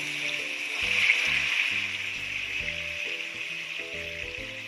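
A steady loud hiss as water is added to a hot pan of chicken pieces for sweet and sour sauce, continuous and close, with music playing underneath.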